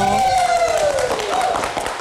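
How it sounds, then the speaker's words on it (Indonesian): A live studio crowd at a late-night talk show gives a steady, dense round of clapping and applause for a guest, sustained throughout beneath a sliding musical tone. "kita kasih tepuk tangan untuk Otto"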